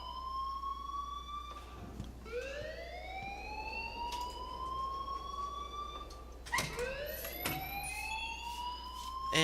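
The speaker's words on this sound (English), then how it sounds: "please turn off that alarm since that's your job" A school fire alarm rings in the video game Life is Strange, a loud electronic siren whose rising sweeps repeat steadily, each one gliding upward, with a sharp restart near the end and no voices.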